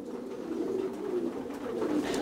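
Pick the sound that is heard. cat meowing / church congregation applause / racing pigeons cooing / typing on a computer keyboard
racing pigeons cooing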